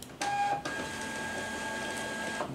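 A Zebra GT820 barcode label printer feeding out labels, a steady mechanical whirring hum after a short higher-pitched start, running continuously and close by.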